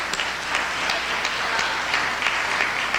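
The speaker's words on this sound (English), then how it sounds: "let's give ourselves a round of applause" Crowd applause with a dense, steady patter of many hands clapping, sustained at moderate volume for a few seconds.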